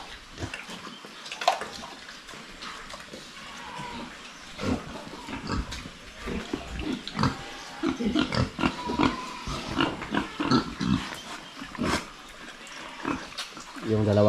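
Farm pigs grunt and snuffle close by in irregular bursts, with splashing water and a person talking over them at times.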